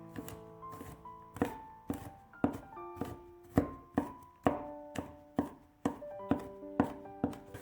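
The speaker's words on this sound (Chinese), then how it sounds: "1把大蒜先切成片，再切成蒜末" A knife chops garlic on a cutting board, first slicing cloves and then mincing them, giving a steady run of about fifteen crisp, close knocks at a quick, even rhythm with no voices.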